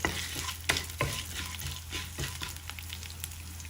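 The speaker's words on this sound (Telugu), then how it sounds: "1 టీ స్పూన్ జీలకర్ర, ఇవి కొద్దిగా వేగాక" A teaspoon of cumin seeds fries in hot oil, producing a continuous close sizzle broken by sharp spoon knocks and scraping stirs against the pan, with no one talking.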